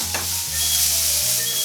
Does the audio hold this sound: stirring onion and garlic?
yes